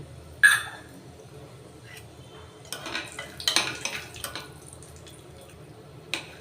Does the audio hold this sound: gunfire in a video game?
no